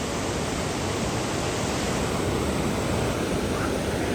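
A fast mountain river on the road from Srinagar to Govindghat produces a loud, continuous roar of rushing water, steady and unbroken throughout.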